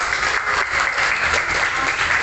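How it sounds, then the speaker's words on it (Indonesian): A classroom audience claps in a dense, steady wash of applause that stays loud and even, with no voices over it. "Tepuk tangan untuk kita semuanya."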